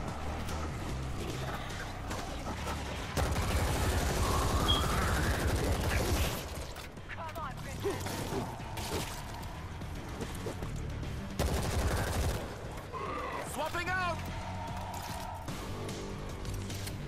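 Rapid, dense gunfire in World War Z's zombie shooter fighting rattles continuously in the first half amid loud game chaos, then gives way to scattered shots and effects under faint talk.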